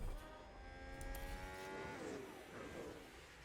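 Race cars in the F1 Manager 22 video game on a wet track, with steady engine whine and rising and falling pitch as cars pass, a continuous moderately loud roar with a hint of tire noise.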